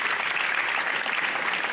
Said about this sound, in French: Donc, je voudrais les applaudir